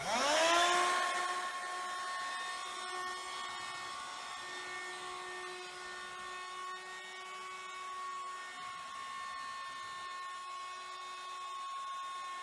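A rechargeable electric air pump inflating a Quechua Air Comfort 120 air mattress whirs loudly from a sharp start, then settles into a steady, close, high-pitched motor whine that holds for the whole stretch.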